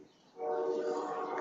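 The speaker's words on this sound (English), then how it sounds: "There's the train. I don't know if you guys can hear it." A train rumbles past outside during an indoor chair exercise session, rising abruptly to a loud, sustained drone with a tonal horn-like hum that holds steady to the end.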